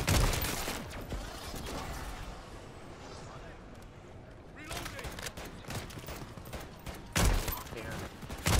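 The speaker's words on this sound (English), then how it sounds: "I basically have a handheld sniper right now." A handheld sniper-style gun firing in a zombie video game, heard as bursts of loud sharp shots and mechanical clatter over dense game noise, with a voice talking over the action.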